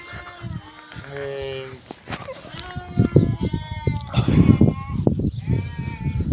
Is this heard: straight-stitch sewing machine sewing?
no